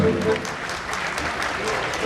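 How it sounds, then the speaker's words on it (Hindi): Loud applause from a crowd gathered at a Jain Panchkalyanak religious ceremony, a dense steady wash of clapping sustained for about two seconds, with a voice faintly audible beneath it. "जोरदार तालियां बजाइए।"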